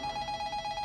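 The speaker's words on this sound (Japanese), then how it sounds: "あ、ホームから電話だ。" A telephone in a convenience store back office rings with a repeating electronic trill, steady pulsed tones sounding close and fairly loud, with no one speaking.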